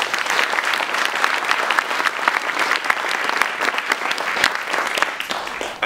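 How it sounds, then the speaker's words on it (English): An audience at the Wasafiri New Writing Prize 2015 winners' ceremony gives a dense, sustained burst of applause, many hands clapping steadily at fairly close range for several seconds. "So give him a round of applause."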